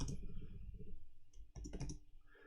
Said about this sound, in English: Really doing good with the typing this evening.